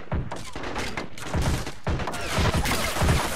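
Repeated artillery gun fire in the Strateejik Battles war game, a rapid series of loud heavy thumps and booms rolling one after another with no pause.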